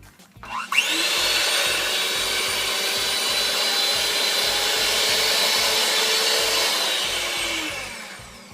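An electric whisk is switched on to mix an ice cream base with sugar, running at a loud, steady high whine for several seconds before winding down, close by and with no talk.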